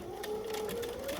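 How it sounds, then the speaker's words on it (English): A home sewing machine back stitches a seam, giving a steady close whirring motor hum with a faint rising pitch over a short stretch. No one speaks. "So what I'm going to do, I'm going to back stitch"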